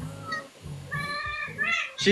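A pet cat meows several times in short, close, clear calls, with people talking around it during a livestream.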